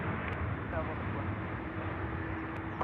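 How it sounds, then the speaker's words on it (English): A Qantas jet rolls down the runway at Sydney Airport on its takeoff run to Bengaluru, a steady, distant engine roar with a broad rushing quality that holds evenly throughout. "We've got Qantas 67. That's the service off to Bengaluru now,"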